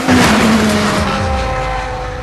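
A Caparo T1 supercar accelerates hard, heard from close range. The engine note rises loudly, with a rising whine and a harsh roar that holds throughout the brief burst.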